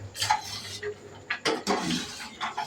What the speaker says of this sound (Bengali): এবার একটু নেড়ে দেবো, একটু গুলে দিয়ে এবার আমি গ্যাসটা বন্ধ করে দেবো।